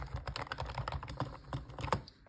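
Quick, fairly quiet typing on a Magegee TS91 membrane keyboard, a rapid run of soft, close-up key clicks in an uneven rhythm, with no voices.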